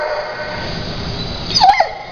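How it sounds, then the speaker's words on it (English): Dog barking in hope of a treat: a steady indoor background, then one short loud bark followed by a quick yip near the end. "Our next dog is our resident noisemaker because he really is hoping that I'll give him a treat"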